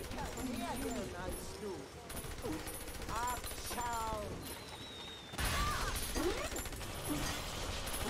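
Bursts of rapid gunfire from the video game BioShock 2 crackle under lively speech and busy game sounds, with a louder volley near the end.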